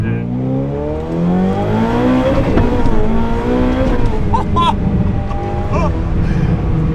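A Ferrari 488 Pista engine with an aftermarket exhaust revs loudly and climbs through rising pitches, roaring continuously up close with no talking.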